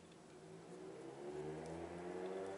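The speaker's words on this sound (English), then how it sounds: "Loud motorbikes now." Motorbikes passing outside, their engines revving with a rising, growling drone that builds in loudness, heard from a distance through a room with no talking.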